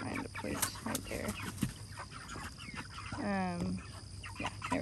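Hens on a farm cluck and chatter close by at a feeding spot, with short scattered calls, one drawn-out rising squawk near the middle and a steady low background hum.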